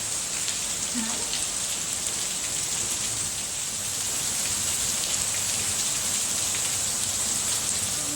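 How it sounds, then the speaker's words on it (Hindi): Steady, dense rainfall in Puri pattering on surfaces, a constant hiss of drops that stays even and fairly close throughout with no voices. "और बारिश होने लगी"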